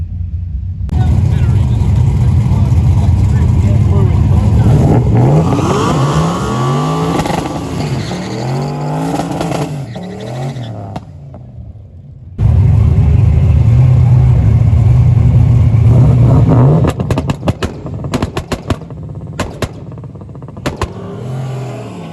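A turbocharged LS-powered manual-transmission drag car makes a pass at a street drag event. The engine rises through gears in loud rising sweeps with a brief drop between shifts, then roars again before cutting off into scattered pops and clicks.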